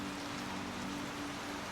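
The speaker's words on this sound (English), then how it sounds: "Rain poured down in heavy sheets." Heavy rain pours down steadily in a dense, continuous wash, close and unbroken, with no voices over it.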